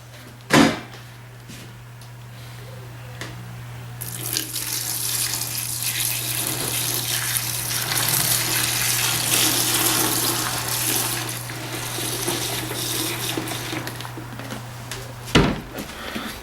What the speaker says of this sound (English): I will now pour the LA Awesome into the bucket